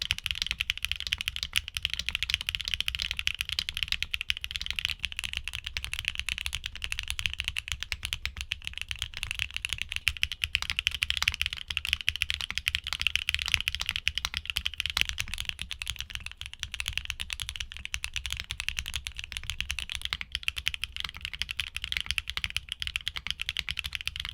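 Fingers type on a mechanical keyboard fitted with HMX Perky switches, a steady, rapid clatter of keystrokes that continues evenly and close up for the whole stretch.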